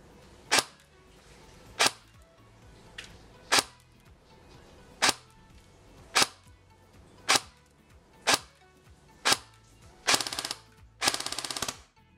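An A&K Masada airsoft rifle fires single shots through a chronograph, about nine sharp, evenly spaced cracks roughly a second apart, ending with two quick rattling bursts, close and loud over a faint background.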